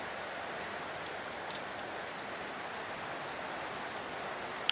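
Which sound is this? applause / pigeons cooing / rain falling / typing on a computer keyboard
rain falling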